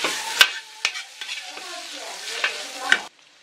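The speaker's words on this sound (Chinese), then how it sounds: "还有红辣椒，然后煸炒一会儿" Asparagus, bacon, ginger, garlic and red chili stir-fried in a wok, with a steady bright sizzle broken by several sharp scraping clanks of the spatula, then a sudden cut to near silence at the end.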